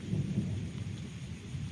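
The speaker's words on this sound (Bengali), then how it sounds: "এখনো বৃষ্টি পড়ছে, নতুন করে আবার বৃষ্টি আসছে।" Rain keeps falling in a village during a thunderstorm, a steady low rumbling wash of thunder and rainfall that stays constant and fairly faint throughout, with no voices.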